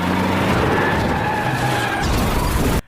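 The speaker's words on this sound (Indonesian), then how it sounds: "tiba-tiba dari arah samping muncul truk besar yang langsung menabrak Yuan" A big truck in a film accident scene skids loudly with a sustained tire screech and crash roar that fills the moment, then cuts off abruptly at the end.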